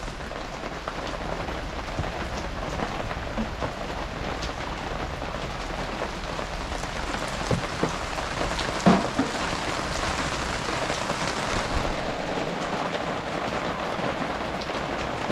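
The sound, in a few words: rain slowing down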